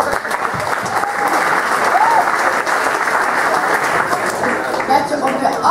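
Steady, full audience applause with cheering voices throughout, praising an eight-year-old boy who played guitar and sang at a school event.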